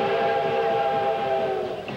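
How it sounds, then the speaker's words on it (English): A steam locomotive whistle blows a sustained, loud multi-tone hoot at Steamtown in Scranton, Pennsylvania, holding steady for about two seconds before starting to fade. "the hooting of a steam whistle"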